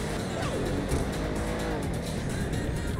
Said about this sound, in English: I'm losing control of the car a little bit.